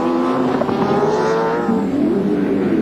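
Touring race cars at Mallala circuit in the 1994 Australian Touring Car Championship, a sustained engine roar drifting and shifting pitch as cars pass, steady and fairly loud with wind noise, no voices heard.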